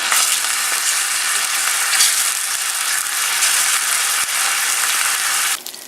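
Loud, steady stir-fry sizzle of ginger and soy sauce in a pan, with occasional scraping clicks from stirring, running unbroken before dropping away briefly at the end; no voices.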